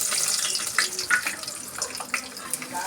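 Peanuts sizzling in hot oil in a pan on a stove, a steady close crackling hiss with scattered sharp pops, no talking.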